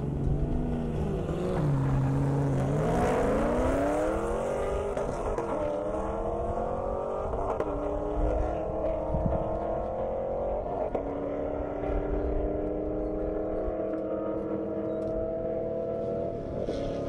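An older Chevrolet Camaro drag racing on an airstrip, engine revving and climbing through gears with rising pitch sweeps, then a sustained high-revving run that slowly fades, heard from a distance.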